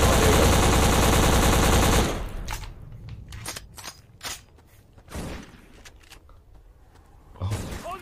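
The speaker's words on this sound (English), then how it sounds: "Who's shooting?" Video-game gunfire in BLACK: a loud, dense burst of automatic fire for about two seconds, then scattered single shots and sharp bangs at varying distances.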